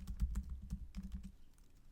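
A computer keyboard clatters with quick, uneven bursts of close keystrokes that trail off into quiet near the end.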